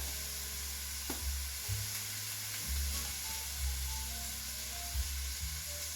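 Onions and garlic frying in oil in a pan for an eggplant parmesan sauce, a steady close sizzle and hiss, with occasional scraping and stirring knocks against the pan.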